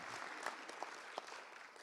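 Brief applause from a small audience at a family meeting, a soft, distant wash of clapping with a few individual claps standing out and no talking.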